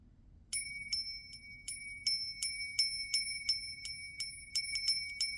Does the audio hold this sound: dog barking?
no